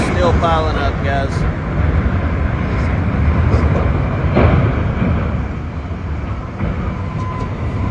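Loud, rumbling rail noise with grinding and metallic clatter as a train derails and its cars pile up after hitting a semi-truck in Pecos, Texas, with voices talking excitedly over it.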